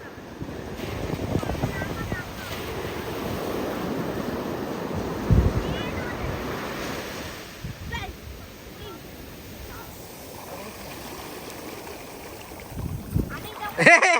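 Waves wash onto the shore in a rolling surge, with heavy wind buffeting the microphone and brief voices nearby.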